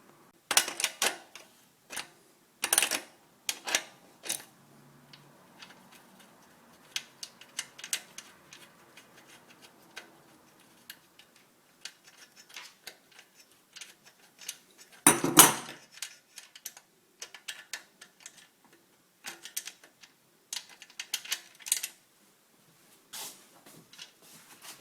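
Working on the rear wheel axle of an electric bike: scattered metallic clicks, taps and ratcheting of tools on the nut, close and quiet, with a few louder clattering bursts and silence between them.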